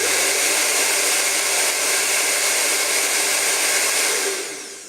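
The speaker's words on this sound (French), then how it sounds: "découvrir le rendu à différentes vitesses du sèche-cheveux" A Remington AC9007 hair dryer runs at speed 2, a loud, steady, close-up whooshing roar of fan and airflow with a faint low hum, tapering off at the very end.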